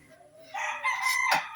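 A rooster crows once, loud and fairly close, with chickens faintly present in the background.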